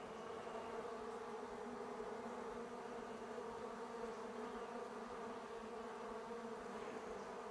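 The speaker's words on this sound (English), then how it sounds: "I don't know if it's blocking the bees from getting into the entrance or what" Honey bees swarm and cluster at the entrance of a hive box, a steady, dense buzzing drone that stays close and unbroken throughout, with no voices.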